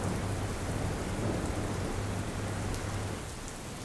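Heavy rain beats down steadily on Gabbar mountain, with a low rumble of thunder rolling underneath, loud and continuous throughout.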